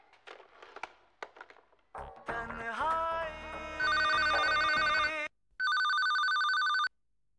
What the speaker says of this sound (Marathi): आपण शितूताईला फोन करूया.